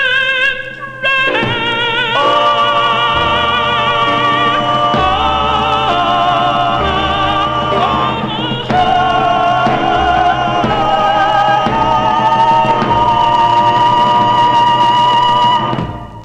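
A 1956 doo-wop record plays from vinyl: slow vocal-group harmony over backing instruments, sustained and full throughout.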